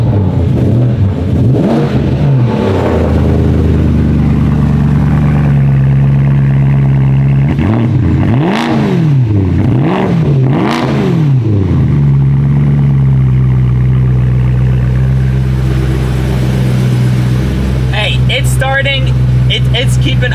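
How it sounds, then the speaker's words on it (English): A BMW E90 M3 with its rev limiter set at 6,000 RPM is given several short, loud throttle blips that rise and fall over a steady idle, heard alongside someone talking. "We're gonna go ahead and just give it a little rev"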